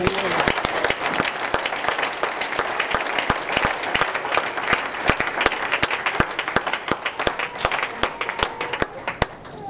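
Congregation at a church wedding ceremony applauding, a steady dense wash of many hands clapping with sharp individual claps standing out, sustained and fairly loud throughout, with voices mixed into the crowd.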